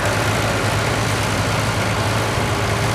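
A 1965 International 504 row crop tractor engine runs steadily at a loud, close idle, a constant low rumble with no change in pace and no talking.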